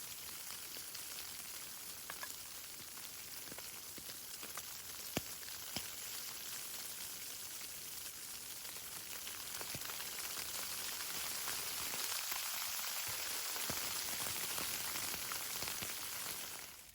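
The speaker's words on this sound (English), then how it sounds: "As you could hear, a little bit of rain has decided to come on in." Rain falls overnight on a backpacking campsite, a dense, steady patter of drops with occasional sharper taps, continuous and fairly soft throughout, with no voices.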